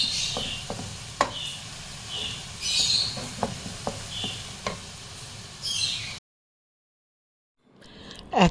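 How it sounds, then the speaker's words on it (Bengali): A knife breaks a block of jaggery for carrot halwa, producing a series of sharp, close cracks and scraping taps at irregular intervals. A pause of near silence follows, then a final knock. "তো এই গুড়গুলো এরকম ভাবে একটু ভেঙে দিচ্ছি, ছুরি দিয়ে করলেই হয়ে যাবে"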